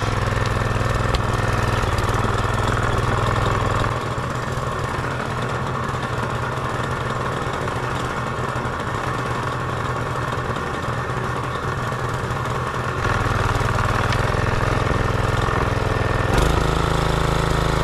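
A motorised hoe engine starts and runs in a potato field, a loud steady mechanical drone with a low throb that holds throughout, shifting briefly near the end, and no speech.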